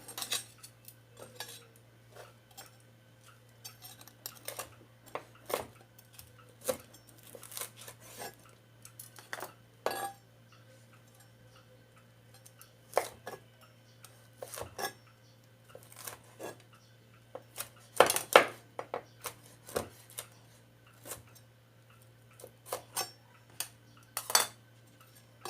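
A knife chops meat into smaller pieces, with irregular sharp taps on a board, sometimes in quick bursts, close but fairly faint over a steady low hum.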